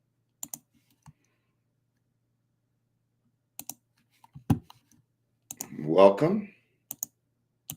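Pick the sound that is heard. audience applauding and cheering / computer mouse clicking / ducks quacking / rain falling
computer mouse clicking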